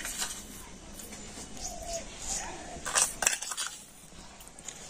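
Sugar being spooned into milk in a wok while making rice-flour dudh chitoi pitha, heard as soft clinks and scrapes of a metal spoon against the pan over a faint steady hiss, with a brief louder clatter near the end.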